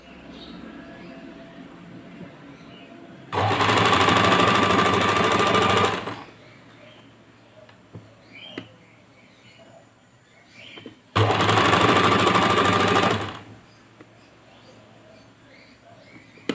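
A sewing machine stitching fabric scraps runs in two loud bursts of about three and two seconds, with quieter handling sounds and faint clicks in between.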